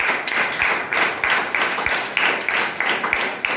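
An audience at a business opportunity meeting claps together in a loud, sustained round of applause with a dense, even rhythm of hand claps, close and filling the room.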